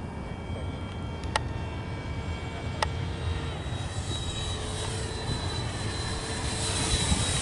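A Freewing MiG-29 RC model jet in Polish Air Force scheme flies overhead at a model airfield, giving a steady roaring jet whine that slowly swells and brightens, loud and continuous with no talking.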